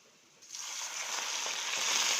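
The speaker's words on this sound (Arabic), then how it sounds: "هجيب شويه زيت وهحط 3 فصوص ثوم واشوحهم نص تشويحه، واحط عليهم ربع كوبايه خل." Three garlic cloves hitting hot oil in a pan, with a splash of vinegar for fatteh: a sudden loud sizzle bursts in after a quiet start and keeps crackling steadily, close and intense.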